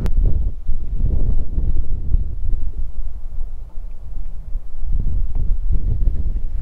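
Steady wind buffets and rumbles across an outdoor microphone while fishing, with gusts swelling and easing throughout and nobody speaking.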